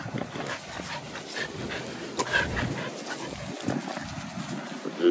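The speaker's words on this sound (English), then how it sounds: "Just showing y'all the dogs." Heeler dogs make soft whimpers and panting noises nearby, with scattered yips over a steady background hum.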